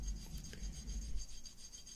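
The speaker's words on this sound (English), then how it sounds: "As you're running the penny across it, you'll feel the ridges." A copper penny rubbed back and forth over surface rust on a firearm's metal, giving a close, steady gritty scraping rasp in short repeated strokes, with no voices.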